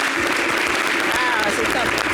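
Studio audience applause on a local television show, a dense, loud wash of clapping that runs throughout, with a voice talking faintly over it.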